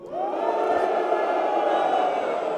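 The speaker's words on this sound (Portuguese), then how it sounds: "Essa é a vaia do estado de Goiás para o governador Ronaldo Caiado" A large crowd at a Goiás state legislative assembly session boos Governor Ronaldo Caiado in one loud, sustained, droning jeer of many voices that holds steady for a couple of seconds.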